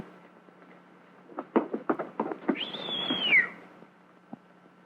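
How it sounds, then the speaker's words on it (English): A rising then level wolf whistle aimed at a woman, preceded by a quick series of knocks or taps, sounding once, fairly close and clear, with no talk over it. "Did you whistle, sir?"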